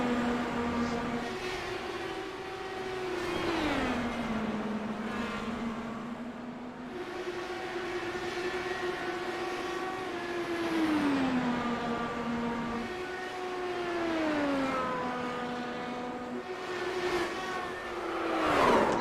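IndyCar race cars in a racing video game drone continuously with high engine notes that swell and bend in pitch as cars pass and shift, a steady mid-level roar repeating every few seconds with no talking over it.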